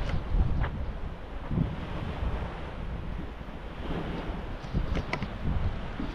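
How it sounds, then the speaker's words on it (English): Rough waves wash against a soundside beach on the Outer Banks in steady wind, a continuous broadband surf roar with gusts buffeting the microphone and no talking. "Waves are kind of rough today."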